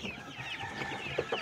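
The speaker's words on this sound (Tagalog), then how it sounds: "Ito isang cockerels." A young cockerel, hatched in mid-March, clucks in short, soft bursts close by on a farm, with a couple of sharper calls near the end and no talking.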